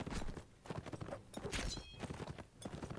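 Horse hooves clip-clopping in the medieval fantasy game Warsword Conquest, a quick uneven run of soft thuds close by, faint and without speech.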